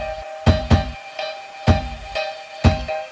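A sampled funk-record hit used as a kick drum strikes on the beat together with piano chords, the pair repeating in a steady rhythm with a sustained tonal texture underneath.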